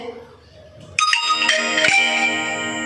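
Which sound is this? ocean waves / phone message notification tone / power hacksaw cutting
phone message notification tone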